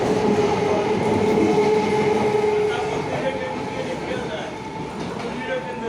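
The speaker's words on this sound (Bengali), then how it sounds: "এটা হচ্ছে লেডিস স্পেশাল মাতৃভূমি লোকাল, এই ট্রেনটা করেই আমরা যাব" A Matribhumi ladies special local train runs with a steady loud rumble of wheels on rails, heard from inside the moving carriage, the noise easing slightly partway through.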